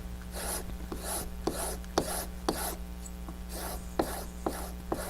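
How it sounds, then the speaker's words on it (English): Semichrome metal polish being rubbed into a leather strop, a soft rasping back-and-forth scrub repeated at an even rhythm, close and quiet over a low hum. "Kind of rub that into the leather there"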